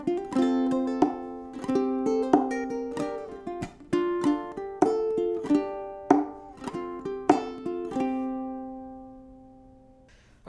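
Ukulele plays a strummed and plucked section of a song, bright close chords in a relaxed rhythm with ringing sustain, fading out at the end.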